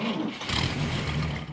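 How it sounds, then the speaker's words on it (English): Car sound effects laid over a radio recording: a steady, loud engine drone with a rise like revving partway through, continuous and without talk. "we just put car sound effects on it"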